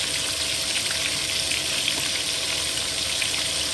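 Coated pork pieces for sweet and sour pork fry in a pan of oil, giving a steady, dense sizzle that stays even and close throughout with no voices.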